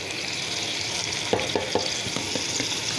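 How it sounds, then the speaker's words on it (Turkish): Pre-boiled spinach sizzles and fries with tomato paste in a pan, a steady bright crackle with several soft scraping stirs of a spoon midway through. "Bu ıspanağı da böyle iyice karıştırıyorum."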